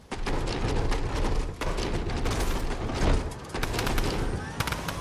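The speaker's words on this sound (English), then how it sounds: "Oh, gunshots." Rapid gunfire bursts and thuds in a Fortnite match fill the mix continuously, loud and close, with players talking over the combat.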